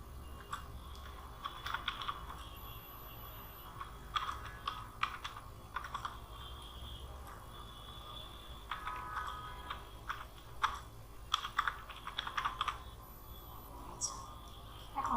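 Computer keyboard typing while a cover page is laid out on screen, coming in scattered bursts of soft clicks over a low background hum, with no voice over it.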